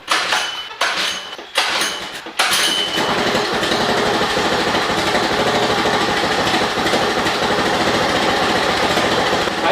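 A Honda 2 hp outboard engine, fitted with a replacement carburetor, takes a few sharp pull-start bursts and then catches, settling into a loud, steady high-pitched running buzz.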